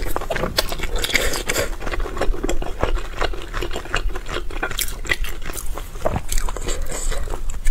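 Crunchy bites into a strongly scented durian-flavoured snack with a faint creamy note, loud and close, a steady run of crisp crackling bites and chewing with no talk.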